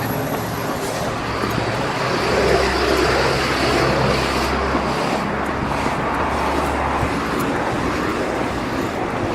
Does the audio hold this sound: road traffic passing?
yes